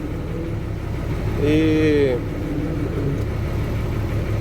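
A truck with a trailer hitched idles low and steady, then its engine note rises briefly as it creeps forward, with someone speaking over the rumble.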